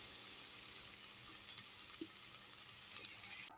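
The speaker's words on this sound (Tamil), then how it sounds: "நம்ம இப்போ வதக்கணும்ல" Masala frying for a South Indian fish curry (meen kulambu) gives a steady, moderately faint sizzle in a pan with a few soft stirring clinks, continuous with no talking.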